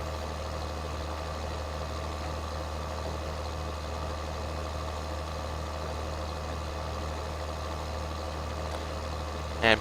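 A John Deere tractor engine idles steadily in Farming Simulator 2013, a constant low droning rumble that holds unchanged throughout, with a brief click near the end.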